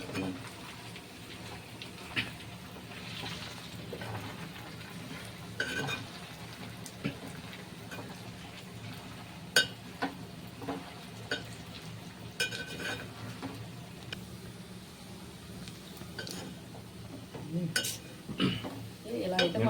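Chicken pieces for a Bhimavaram-style chicken pickle fry quietly in a pan while a spoon stirs them, giving repeated scraping clinks over a soft, steady sizzle.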